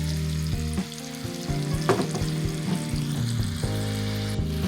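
Sweet potato fries sizzle steadily in hot oil, a close, continuous frying hiss with occasional stirring.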